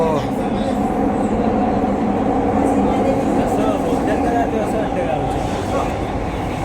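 An underground metro train runs through a tunnel with a steady, loud rumble and rattle throughout. Speech occurs faintly over the noise.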